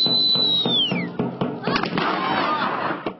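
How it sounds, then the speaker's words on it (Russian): A salute fired from an old Cossack cannon in Zaporizhzhia honouring artillery brigade soldiers, heard as a sharp blast with crackling burst after a whistling tone, amid thumping and crowd noise. "Этот салют из старинной казацкой пушки в честь героев нынешних бойцов 55-й артбригады"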